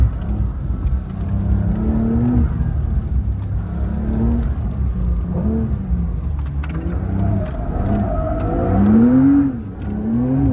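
Porsche 992 Dakar pushing through deep snow, its engine revving and rising in pitch in long pulls, loud and close, with a surge near the end and no talking.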